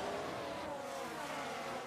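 Ferrari Formula 1 car engine in a racing management video game at the Australian Grand Prix: a steady, high-pitched engine whine held throughout, fairly faint and distant, with no speech.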